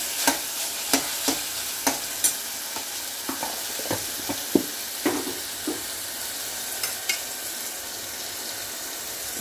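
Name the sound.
frying onion, coconut and masala in a pan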